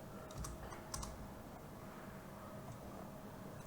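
Typing on a computer keyboard while entering dimensions in ARCHICAD, with quick irregular key clicks bunched in the first second and then soft, sparse tapping under a low background hum.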